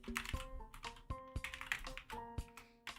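Close computer keyboard typing, a quick irregular run of crisp key clicks and taps with short pauses, over a faint steady electronic tone and no speech.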